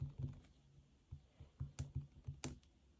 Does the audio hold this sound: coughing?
no